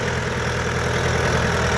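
A Shifeng 404C tractor engine idles steadily at close range, a loud, even diesel rumble with a constant low throb and no breaks.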